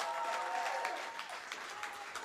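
An audience at a songwriting performance claps after a song, a soft continuous spatter of applause that tapers slightly toward the end.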